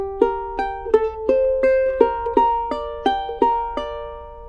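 Charango plucked alone in a short practice lick, about a dozen bright, distinct picked notes in a steady even rhythm, close and clear with ringing decays.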